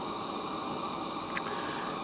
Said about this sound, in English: that noise you can hear is my heater